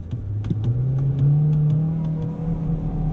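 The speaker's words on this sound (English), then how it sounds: "The car is revving, but it's not moving." A car with a dual-clutch transmission revs while standing still, its engine note climbing and holding in a steady drone with faint ticking clicks above, close and fairly loud.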